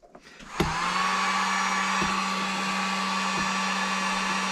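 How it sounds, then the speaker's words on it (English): A heat gun runs on its low setting as the load on a 12V LiFePO4 battery setup, starting with a click and then holding a steady, loud fan-and-heater whoosh with no talk. "So I'm going to have the heat gun on low, and we'll see if it can start this small motor."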